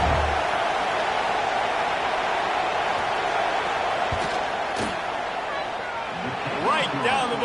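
Stadium crowd in a college football video game during a field goal attempt, a steady broad roar of noise throughout, with a couple of sharp thumps near the end.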